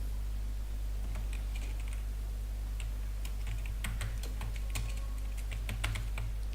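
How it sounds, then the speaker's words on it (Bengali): A staff name being typed on a computer keyboard: quiet, irregular key taps in short bursts over a low steady hum, with no voices. "আমি লিখলাম আরিফ হাসান"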